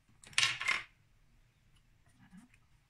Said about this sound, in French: Et vous coupez avec les ciseaux.